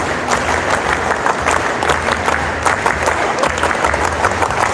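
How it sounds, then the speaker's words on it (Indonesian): Group clapping in the Pramuka scout style fills the whole stretch, loud and close, with a dense steady patter of hands at an event where a Bandung BJB Tandamata volleyball team shows off its Proliga championship trophy. "Tepuk pramuka 2 kali."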